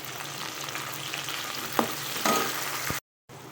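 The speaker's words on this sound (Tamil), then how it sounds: "வெங்காயம் கொஞ்சம் வதங்கட்டும்" Onion and tomato sauté in a pan for a broad bean curry, a steady close sizzle with a couple of spoon scrapes before the sound cuts out briefly near the end.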